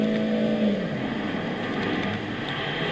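Mini Cooper Countryman 1.6 16V THP with an aluminium Prince engine, driven on a dirt rally stage in Gran Turismo 6. It gives a steady engine drone with a brief higher revving tone early on, alone with no talk.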